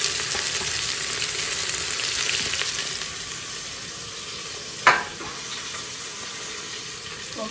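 Onions frying in oil on a low flame in a home kitchen, giving a steady soft hiss throughout, broken near the middle by one brief sharp clatter.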